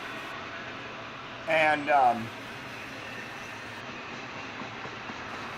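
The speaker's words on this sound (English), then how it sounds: "this is a stacks and racks type of train that we've got here" A CN freight train of stacked well cars and auto racks rolls past with a steady, continuous rumble and rail noise, briefly masked by a short spoken word.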